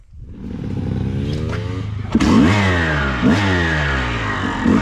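A Honda CRF450X dirt bike engine revs up close, its pitch rising and falling through several loud throttle blips over about five seconds, with no talk.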